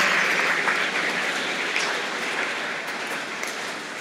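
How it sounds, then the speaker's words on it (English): Sustained audience applause fills a school academic awards ceremony, a dense, steady wash of many hands clapping at moderate loudness throughout with no voices on top. "a round of applause for yourselves"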